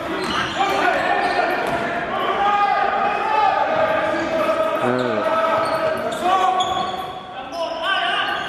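A basketball bounces repeatedly on a hard court amid a loud, busy arena with crowd noise and chatter throughout.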